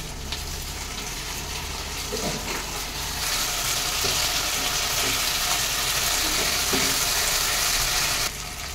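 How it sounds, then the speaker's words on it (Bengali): Ground ginger, garlic and cumin paste with green chilli sizzles steadily in a pan of fried onions for a dhaba-style chicken curry, a loud continuous frying hiss with a few faint scrapes of stirring. "এবার আমি আদা, রসুন আর জিরে বেটে রেখেছিলাম, কাঁচা লঙ্কা এটা দিয়ে দেবো"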